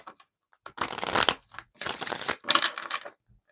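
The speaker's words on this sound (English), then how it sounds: "Give it one more shuffle." Tarot cards are shuffled by hand in three bursts of brisk riffling and rustling, close and fairly loud, separated by short pauses, with no talking.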